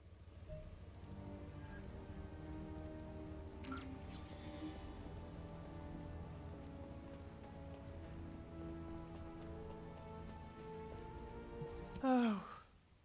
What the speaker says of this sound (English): Oh, this rain feels a lot like tears.